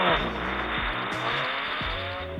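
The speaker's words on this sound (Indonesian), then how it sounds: "Fan start sound" A Nubia RedMagic 11 Pro gaming phone's cooling fan start-up effect: a loud, continuous synthetic engine rev with stepped, gear-shift-like pitch jumps and tire-squeal hiss, close and steady for about two seconds.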